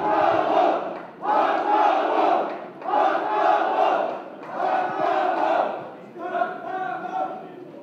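A large crowd at a party candidates' joint speech rally in Daegu roars and chants in repeated loud bursts separated by short pauses, close and dense, with no distinct single voice.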